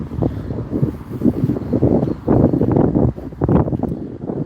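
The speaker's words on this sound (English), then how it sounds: "So windy, yeah, sorry about the wind" Strong outdoor wind buffets the microphone in loud, irregular low gusts that rise and fall continuously, with no clear talk.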